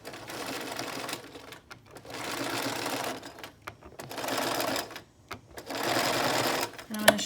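A sewing machine stitches a zipper into a pillow, running in loud steady bursts of rapid needle chatter separated by short pauses, close to the microphone.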